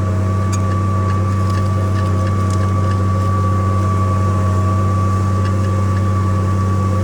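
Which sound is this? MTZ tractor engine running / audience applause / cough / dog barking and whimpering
MTZ tractor engine running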